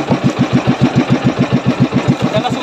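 Outboard engine on a new fishing boat idling at sea, a loud, steady, close chugging with an even rapid pulse throughout and no voices.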